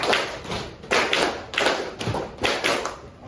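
A class of students claps together in two quick sets of three, the sharp unison claps ringing out in a steady pattern, close by and without speech.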